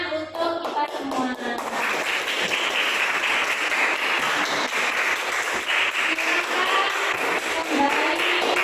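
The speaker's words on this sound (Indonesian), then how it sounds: "Kita tepuk tangan untuk kita semua" A classroom of students bursts into applause, a dense, loud clatter of clapping that carries on throughout after a few brief taps at the start.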